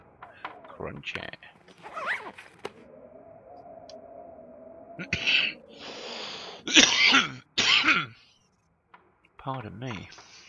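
A man clears his throat and coughs in several short, rough bursts, close and fairly loud, between stretches of other sounds.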